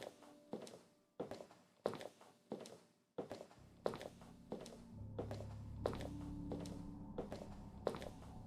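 Footsteps sound effect of a man walking: slow, evenly spaced, fairly loud thudding steps that continue as a low hum and drone rise beneath them.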